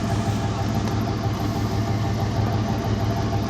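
A 1991 Chevy engine runs steadily up close, a dense low mechanical rumble with faint knocking vibration that holds fairly even throughout, with no voices over it.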